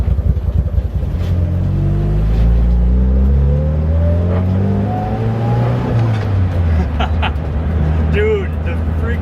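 A Mitsubishi Evo with an aggressive cam revs hard, its loud rumbling exhaust climbing and falling through gears while people talk over it.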